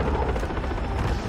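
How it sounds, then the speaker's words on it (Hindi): A helicopter in the video game Far Cry 3 drones steadily overhead through the whole stretch, a loud continuous rotor rumble mixed with faint gunfire in a chaotic pirate-escape chase. "हेलीकॉप्टर भी आ गया"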